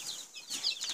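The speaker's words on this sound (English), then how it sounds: "I just thought you'd be interested to see these little chickies." Small chicken chicks peeping in a short run of high, thin chirps, close and fairly faint.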